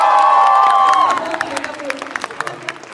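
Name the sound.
audience applauding after being asked to clap for the film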